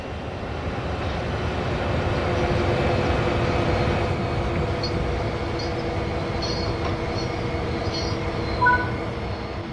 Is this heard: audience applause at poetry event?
no